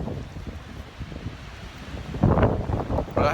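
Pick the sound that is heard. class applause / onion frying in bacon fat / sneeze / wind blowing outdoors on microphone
wind blowing outdoors on microphone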